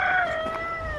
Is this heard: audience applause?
no